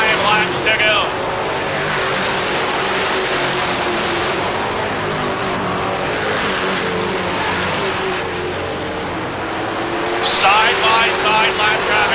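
Race cars roar around a track in the closing laps of a short-track race, a loud, continuous engine drone that swells as cars pass close, with a voice talking over it.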